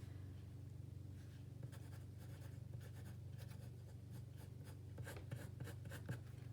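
A pen writing on 32-pound Red River paper in a journal, soft scratchy strokes coming in quick irregular bursts close up over a steady low background hum.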